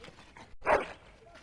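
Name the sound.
dog whining in Dragon Age Origins video game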